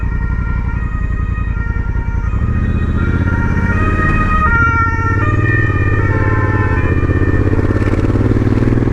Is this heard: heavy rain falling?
no